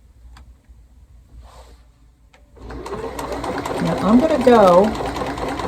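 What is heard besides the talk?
Bernina Series 3 sewing machine stitching a buttonhole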